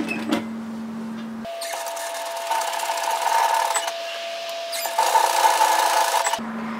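A sewing machine stitching alongside a seam, running in two close, steady whirring bursts with a brief pause between them, with a quieter hum before and after.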